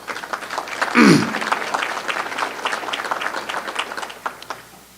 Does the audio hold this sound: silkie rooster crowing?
no